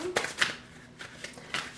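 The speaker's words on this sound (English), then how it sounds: "Okay, let's shuffle." A few soft riffling bursts of tarot cards being shuffled by hand, close and quiet, with short pauses between.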